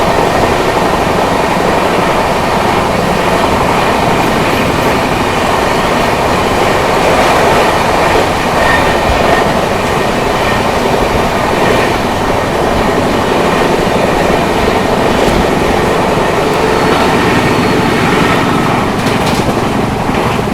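The 12264 Pune AC Duronto Express runs at speed, heard from inside as a loud, unbroken rumble with faint rhythmic rail clatter throughout.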